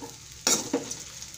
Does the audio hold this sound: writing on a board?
no